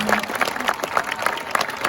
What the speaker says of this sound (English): So a round of applause for those retiring.